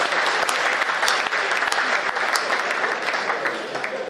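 Audience clapping at a Hindi comedy poetry gathering (kavi sammelan): loud, dense, sustained applause from a large crowd that holds steady for about four seconds before cutting off abruptly.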